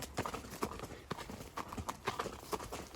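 A horse ridden bareback without a halter clip-clops at a walk on a farm, its hooves striking in a steady, moderately close rhythm, with faint breathing and a few quiet voice sounds in the background.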